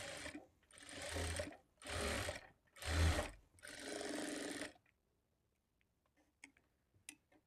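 A sewing machine stitches the lining of a blouse in four bursts of rapid whirring, separated by short pauses, followed by quiet with a few faint ticks and clicks as the fabric is handled.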